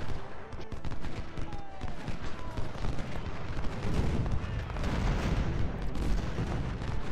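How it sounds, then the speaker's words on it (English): Cannon fire in the Civil War strategy game Ultimate General: Civil War, at the battle of Chantilly, rumbling as dense repeated booms and distant volleys with a continuous battlefield roar and no pauses. "I need you to counter battery fire these enemy guns"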